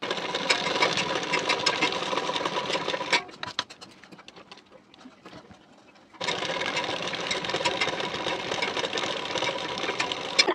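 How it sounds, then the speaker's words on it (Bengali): Sewing machine stitching a blouse hem, a loud steady whirr that stops for about three seconds, leaving near quiet, then starts up again and runs on. "এর উপর থেকে দুটি সেলাই দিয়ে নেব।"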